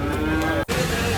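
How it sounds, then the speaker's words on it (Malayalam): At the Cholakkal livestock market in Manjeri, buffalo or cattle give a brief close moo over a dense, noisy market background. "വ്യത്യസ്തമായ ഒരുപാട് പോത്തുകളുണ്ട്, ചെറുതും വലുതുമായ ഒരുപാട് പോത്തുകൾ"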